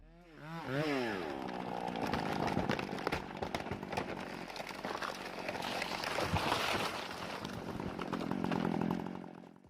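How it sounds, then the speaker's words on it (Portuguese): A chainsaw saws through a particularly large tree, its engine revving up at the start and then snarling steadily under load, loud and close, with the pitch wavering as the chain bites into the wood. "estava serrando uma árvore particularmente grande"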